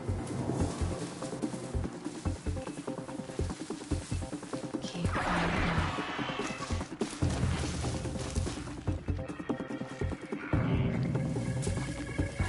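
A horse whinnies in the video game Horizon Zero Dawn, a shrill neigh rising over dense game music and ambient sound, with other horse noises and bird calls faint in the mix.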